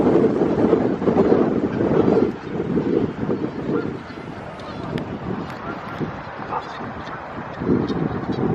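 Geese honk over wind buffeting the microphone beside the Bass Pond at the Biltmore Estate, brief calls scattered through steady rustling outdoor noise, with people speaking nearby.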